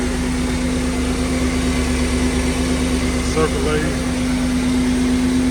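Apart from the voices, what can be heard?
1992 Camaro RS engine running after being cranked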